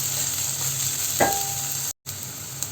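Ginger and chopped garlic fry in a pan for mushroom masala, a continuous close sizzle with a brief scraping stir midway and a short gap of silence, no voices.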